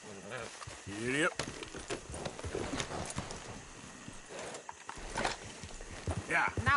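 Steady clip-clop of horse hooves at a walking pace in the video game Red Dead Redemption 2, close by, with voices talking over the top of it.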